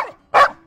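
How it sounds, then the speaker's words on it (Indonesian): A dog gives one short, sharp bark, close and clear, after a brief fading whine, with silence before and after. "Tak lama anjing di depan mereka menggonggong."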